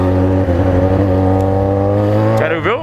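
A motorcycle revs hard outside a party entrance, its steady loud engine drone rising into a sharp climbing rev near the end, with voices faintly under it.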